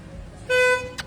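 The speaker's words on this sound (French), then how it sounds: "pourquoi il klaxonne?" A car horn gives one short, loud toot close by, cutting through quiet background noise and ending abruptly.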